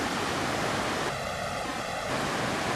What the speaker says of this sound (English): There's culverts underneath the bridge. That's where that water's flowing right now.